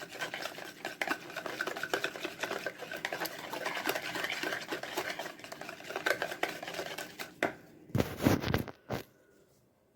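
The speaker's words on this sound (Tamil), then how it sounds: "ப்ரௌன் சுகர் நல்லா மிக்ஸ் பண்ணியாச்சு." Brown sugar whisked by hand for brownie batter, rapid close rhythmic whisk strokes against a bowl that pause briefly, then a final louder clatter before quiet.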